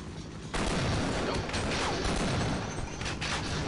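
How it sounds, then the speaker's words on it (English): A hand grenade blast and gunfire in the PC game Half-Life, a sudden loud burst followed by dense, sustained rattling fire and crashes. "Oh, that's a hand grenade"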